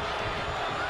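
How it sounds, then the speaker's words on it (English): Arena crowd in the wrestling video game WWE 2K23 during a tag team match, a dense, loud continuous roar of cheering that fills the whole moment without letup. "The sound of this crowd is deafening, and he's asking for more."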